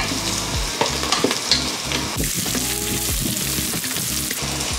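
Vegetables with ginger-garlic paste fry in a Geek Robocook electric cooker, a steady close sizzle broken by stirring scrapes and clatters.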